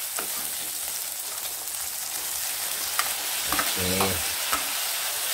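Meat frying in a pan for Bicol Express, a steady broad sizzle running throughout at moderate level, with a few sharper spatters and scraping stirs partway through and a brief word spoken over it.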